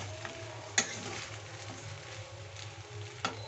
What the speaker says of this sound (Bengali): পাস্তাটা আমি নাড়ছি, এভাবে নাড়তে হবে